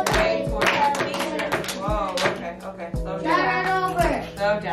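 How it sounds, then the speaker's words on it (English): Hands clap in a steady rhythm as a classroom of children reads a story aloud in unison, each clap landing between the spoken words. "We're going to clap it out as we read."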